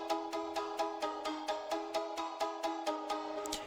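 A dry Omnisphere Fairlight 80s plucker patch with no effects plays a steady run of short, evenly spaced plucked notes, quiet and alone.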